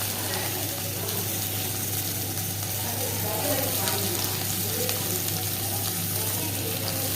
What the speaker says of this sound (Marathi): कांदा छान असा परतून घ्यायचा आपल्याला